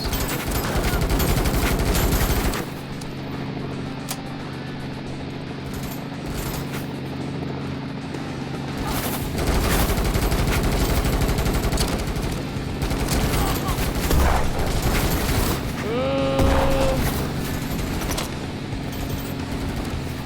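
Sustained automatic gunfire from a video game shooter, a dense rapid burst emptying a full magazine, loud and continuous with engine and mechanical noise in the mix.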